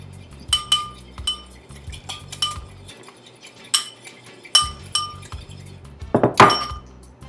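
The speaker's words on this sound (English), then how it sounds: "Just whisk it up." A whisk clinks against a glass bowl in quick, uneven strokes, with bright taps and short scraping runs close by and no talking.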